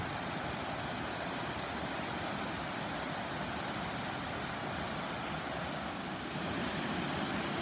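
A small waterfall in the forest of Xaisomboun province, Laos, gives a steady, even rush of falling water, heard faintly from a distance with no other sounds.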